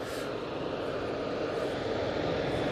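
A Jet2 airliner's engines at Manchester Airport, a steady broadband roar that holds constant throughout, fairly loud and heard from a distance outdoors with no voices.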